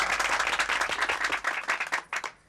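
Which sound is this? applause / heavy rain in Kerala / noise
applause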